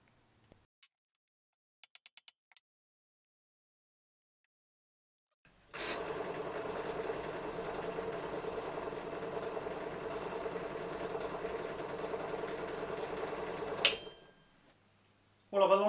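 A pillar drill running after its pulleys were aligned, with a steady mechanical hum and whir lasting about eight seconds between quiet stretches, heard close and alone.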